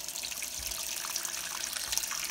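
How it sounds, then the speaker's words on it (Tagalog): Water runs steadily from a faucet into a kitchen sink inside a farmhouse, a constant close hiss and splash, with no talking. "meron na tayong gripo"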